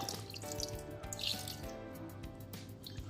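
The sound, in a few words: water poured into quail roast in a pot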